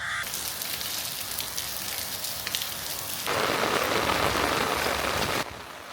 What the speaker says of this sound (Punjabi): ਜਿੱਦਾਂ ਤੁਸੀਂ ਹੁਣ ਦੇਖਿਆ ਵੀ ਮੀਂਹ ਬਹੁਤ ਪੈ ਰਿਹਾ ਸੀ